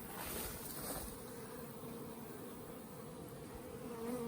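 A continuous low buzzing of many bees around beehives hums steadily nearby, a faint, even drone without talking.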